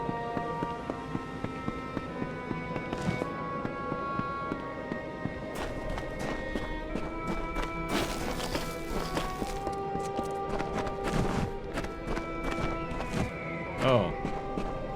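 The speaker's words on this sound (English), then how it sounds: "Horse is below." Horse hooves clip-clop in steady walking rhythm in the Kingdoms of Amalur: Re-Reckoning game, close and clear over layered game ambience and music, with a brief rustle and snort near the end.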